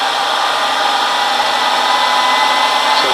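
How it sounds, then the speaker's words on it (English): A hair dryer serving as the load on a LiPo battery discharger, driven by an iCharger 4010 Duo, gives a steady, loud, unbroken whir that holds constant throughout with no voices. "Obviously here the hairdryer, a little bit noisy,"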